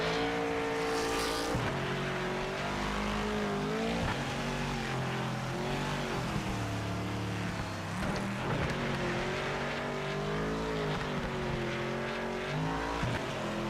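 Race car engine in the Project Motor Racing video game, a steady sustained engine drone with shifting harmonic pitch as revs rise and fall, continuous and fairly loud with no talk.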